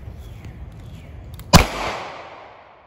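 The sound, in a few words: gunshot from a .38 Special +P revolver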